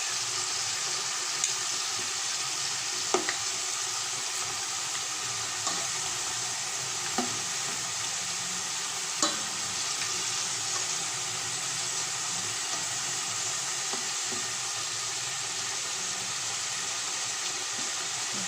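Sweet potato for camote cue fries in oil with a long, steady close sizzle, broken by occasional soft clicks and stirring sounds.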